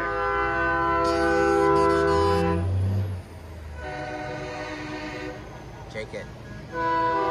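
A truck fitted with a train horn at a night truck show light parade blasts loud, sustained, multi-tone chords, then sounds again in shorter bursts after brief gaps, with voices nearby.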